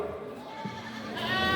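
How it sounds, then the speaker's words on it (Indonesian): A male goat in class A at a 2023 local goat contest in Kulon Progo bleats, a drawn-out, wavering cry rising near the end, heard over crowd noise and a public-address voice. "Lanjut kambing kelas Gopal, A jantan."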